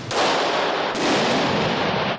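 Rapid loud gunshots from a 3D printed metal firearm at an outdoor shooting range in Austin, Texas, two sharp reports with sustained echoing blast noise between them.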